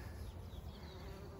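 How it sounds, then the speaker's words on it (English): Small black bumblebee-type bees, about honeybee size, buzz softly and continuously around a blooming Ceanothus hedge, a faint steady insect drone with no voices. "These little black bumblebee type guys. About the size of a honeybee."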